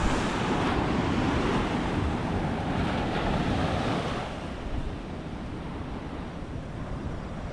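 Big waves surge and wash onto a shore where boats are pulled up, a loud continuous roar of surf mixed with wind buffeting the microphone.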